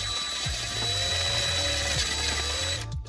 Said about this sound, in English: It's plastic, so it should drill out pretty quick and easy.